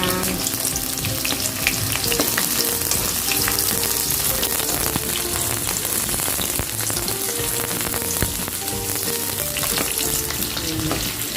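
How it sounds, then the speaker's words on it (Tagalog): Onions sauté in a pan for Filipino kare-kare, a loud, even frying crackle that holds steady throughout with faint stirring clicks and no speech. "Nagsosote tayo. Sote lang."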